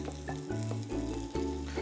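Snapper fillet sizzling and searing in an oiled pan, a steady close frying crackle with bursts of spitting, running continuously with no talk.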